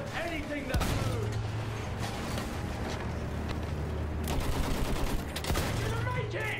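Battlefield 1 combat gunfire rattles in a dense, continuous barrage of shots and explosions, loud and close throughout.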